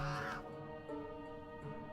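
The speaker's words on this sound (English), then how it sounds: "A clamour of caws and cackles wavers on the breeze as a fuss of black feathers flaps in from the sun." Crows caw in the card adventure game Aces & Adventures, a harsh caw at the start and then quieter cackling calls over low background game music.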